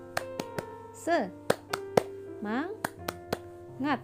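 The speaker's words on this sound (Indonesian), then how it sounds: "ayo sekarang kita tepuk semangat dahulu ya, supaya kita semangat dalam belajarnya" Young pupils in a first-grade Islamic school class clap a rhythmic cheer, sharp claps in a patterned beat mixed with chanted voices and a sustained tone underneath.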